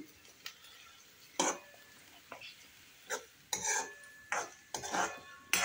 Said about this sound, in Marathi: आता हे मिक्स करूया आपण व्यवस्थित.